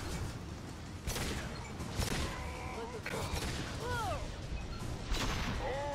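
Several sharp gunshots crack at intervals over a noisy Mass Effect 2 game soundtrack, with whistling electronic tones between the shots.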